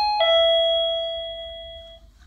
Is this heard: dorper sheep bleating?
no